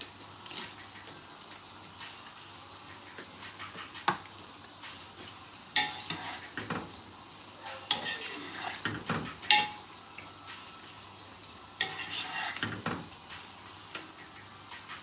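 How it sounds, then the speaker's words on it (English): Chin chin dough frying in oil in a large pot, a steady soft sizzle broken by intermittent scraping, stirring and clinks of a utensil against the pot. "So the chin chin is frying now."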